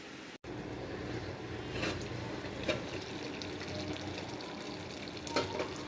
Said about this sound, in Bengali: সাথে একটু অল্প পানি দিয়ে দিলাম।